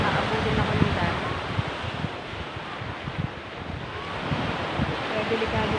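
Rough sea surf pounding a shore at Bataan in bad weather, a steady broadband wash of breaking waves mixed with strong wind buffeting the microphone, continuous and close throughout.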